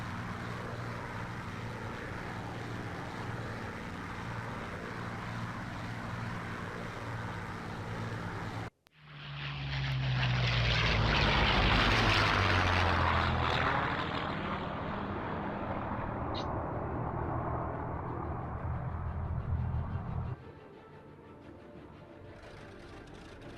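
A Spitfire's piston engine in a virtual flight sim game, a steady droning roar that cuts out abruptly, then returns loud and swelling before easing to a lower, quieter hum.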